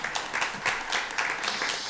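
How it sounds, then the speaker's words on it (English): Audience applause for the reigning Miss Arkansas at a State Board of Education awards event, a steady wash of many hands clapping throughout without a break. "give her a round of applause"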